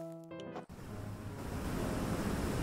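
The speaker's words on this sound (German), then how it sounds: "Der Wasserfall ist so laut!" Loud waterfall in the horror game Harvest Island, a steady roaring wash of water that swells and fills the whole clip after a brief tonal game sound at the start.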